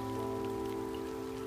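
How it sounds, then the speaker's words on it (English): Rain falls steadily on surfaces beside a river during chub fishing, a continuous pattering hiss under a constant low hum. "It's raining now and it just spoils the fishing"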